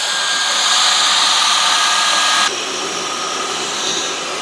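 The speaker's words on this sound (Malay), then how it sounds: "ni vacuum lama saya. Saya dah set kepada boost." Old cordless vacuum cleaner running on boost mode, a steady close high-pitched whine and rushing airflow that steps down slightly in intensity partway through.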